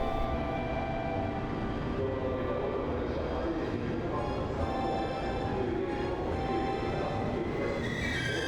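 A Limited Express Relay Kamome train bound for Nagasaki, Japan, rolls into a station with a loud, steady rumble and hiss of wheels and rails, the noise holding constant throughout.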